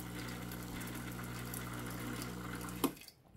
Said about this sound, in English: we want to get this machine, get water moving through the machine.